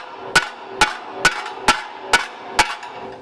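An Eastwood ball peen hammer strikes metal six times in an even rhythm, each a sharp, ringing knock, close and loud, while the metal is beaten flat during work on an Eastwood Tri-Flow radiator.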